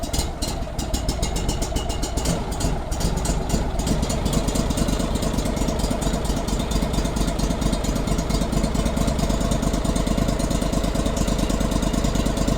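A Kohler Command CH20S EFI small engine, noted as reluctant on cold starts, runs continuously with a loud, steady mid-pitched throb, a little rougher in the first few seconds before settling into an even note.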